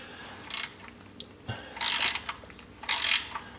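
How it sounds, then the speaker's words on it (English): A wrench loosening a Jeep's oil drain bolt during an oil change gives three short bursts of metallic ratcheting clicks with brief pauses between them, close and fairly quiet, with no talking. "Take our wrench. Make sure we're loosening it."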